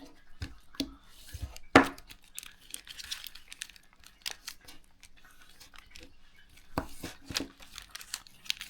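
Paper is folded by hand in light, scattered crinkles and taps, with one sharper crease about a third of the way in and a cluster of crinkling near the end; close and fairly quiet, with no talking.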